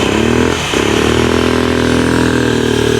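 A Honda Metropolitan scooter engine runs close by with a steady, buzzing drone that dips briefly near the start and then holds even and loud to the end, with no voices.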